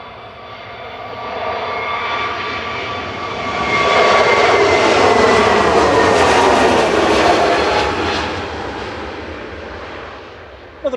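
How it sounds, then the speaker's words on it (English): A Turkish Airlines Airbus A321neo departing Manchester for Istanbul gives a loud, close engine roar that builds, peaks for several seconds and then fades, with no talk over it. "Another A321neo heading back to Istanbul, this time with Turkish Airlines, flight 1996"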